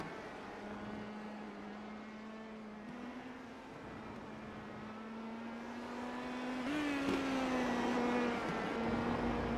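IndyCar open-wheel race cars lapping the Portland circuit in a racing video game, a steady droning engine tone that slowly climbs in pitch and grows a bit louder, with no talking.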